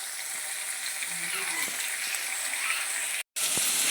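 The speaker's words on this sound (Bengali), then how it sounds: "সবজিগুলো সব তেলে ছাড়া হয়ে গেছে, একটু নুন দিয়ে সামান্য হালকা ভাজতে থাকবে" Mixed vegetables frying lightly in oil with a little salt, a steady close sizzle running throughout with faint stirring scrapes and a brief dropout near the end.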